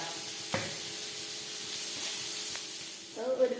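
Onion and chicken sauté with salt in a pan, giving a faint, steady hiss with a couple of soft utensil taps, and a brief voice rising at the very end.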